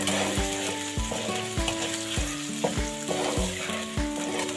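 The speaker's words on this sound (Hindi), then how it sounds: "ये इसके अंदर मैं डाल के ना फ्राई कर लूँगी प्याज को" Thick-cut onions frying in hot oil in a wok, a loud, steady sizzle with repeated scraping stirs at a regular pace, close up with no talking.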